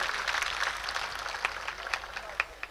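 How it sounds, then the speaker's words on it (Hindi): Applause from the audience at an all-India poet gathering held for a birthday celebration, a dense patter of clapping at moderate level with a few sharper claps standing out, heard alone. "एक बार जोरदार तालियों से।"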